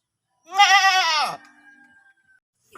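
A single loud, wavering goat bleat close by near a goat pen in the countryside, lasting under a second, followed by quiet.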